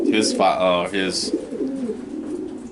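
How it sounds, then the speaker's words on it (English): Racing pigeons coo in a loft, several throaty, rolling calls close by, overlapping one another and fading to softer murmurs toward the end. "the oldest guy I got here is a bird from Louis de Mail"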